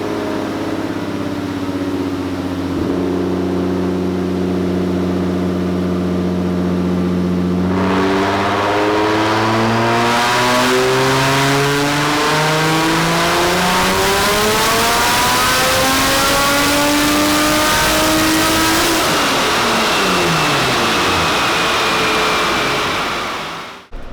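A turbocharged Nissan 350Z drift car revs hard on a dyno, idling first, then climbing through a long, loud pull with rising engine pitch before the throttle drops off near the end, with no talk over it.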